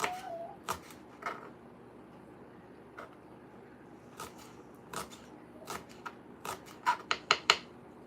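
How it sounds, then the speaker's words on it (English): Green onion being chopped on a board with a knife: sparse, irregular crisp taps that cluster into a quicker run of sharp chops toward the end, close and fairly quiet. "So we're just going to get this green onion cut up real quick."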